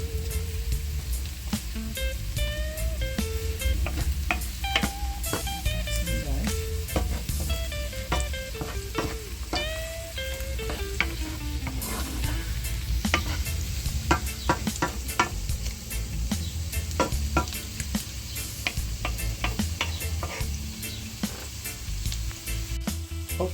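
Pre-cooked meatballs sizzle steadily in hot oil in a pan while a utensil stirs them, with a continuous frying hiss and scattered scraping knocks, and a faint tonal whine running underneath.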